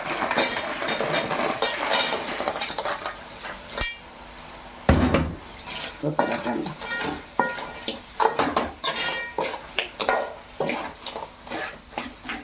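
Cleaned crabs clatter into a metal cooking pot, with repeated clanks, scrapes and stirring knocks of utensils against the pot, loud and close.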